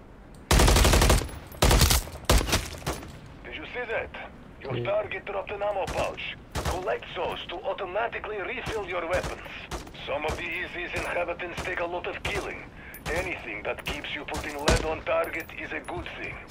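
Rapid gunfire from Call of Duty: Modern Warfare 3 Zombies, with loud opening bursts followed by a dense run of repeated shots and clattering action continuing throughout, with occasional sharper blasts.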